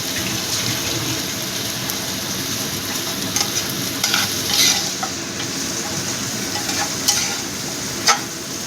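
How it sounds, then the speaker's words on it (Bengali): Onions, salted a little, fry in a pan until reddish, giving a steady close sizzle with repeated stirring scrapes and a couple of sharper utensil knocks. "পেঁয়াজটা একটু লাল করে ভেজে নেব"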